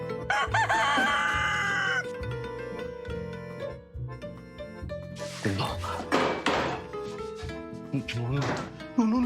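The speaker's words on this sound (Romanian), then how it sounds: "E cocoșul. Cocoșul." A rooster crows loudly and close by, followed by clucking and clattering household sounds with people talking.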